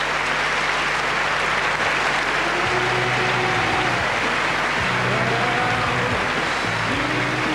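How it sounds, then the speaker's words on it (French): A standing audience at the 1994 World Music Awards in Monaco gives loud, continuous applause, a dense wash of clapping with a few whistles and cheers rising through it. "Tous les représentants de l'industrie du disque, debout, pour applaudir le génius"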